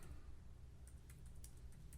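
Rapid clicking of computer keyboard keys, steady and fairly close, with scattered sharper key strikes across the stretch and no talk.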